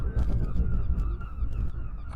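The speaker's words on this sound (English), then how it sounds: "Seagulls everywhere, as there usually is" Seagulls calling in a coastal town around Whitehaven and St Bees, brief honking cries repeating over a low outdoor background rumble.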